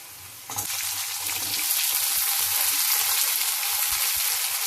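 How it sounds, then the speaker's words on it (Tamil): Garlic and small shallots frying in oil for Tamil vatha kozhambu, a steady close sizzle that jumps louder about half a second in as the onions hit the pan and stays bright and continuous. "கொஞ்சம் பூண்டு வதங்கின உடனே சின்ன வெங்காயம் இப்போ போட போறேன்."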